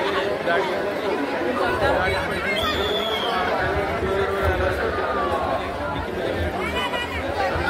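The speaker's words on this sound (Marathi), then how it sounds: "भरपूर गर्दी आहे मोठ्या प्रमाणात." A large crowd at the Jejuri Khandoba temple makes a dense, steady hubbub of many voices close by, with chatter and movement all around and no single voice standing out.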